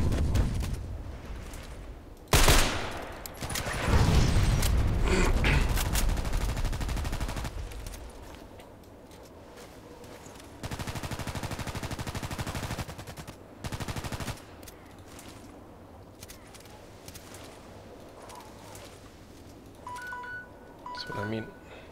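Gunfire in a shooting video game: loud bursts of automatic fire and single shots arrive in uneven clusters, with a player talking over the action throughout.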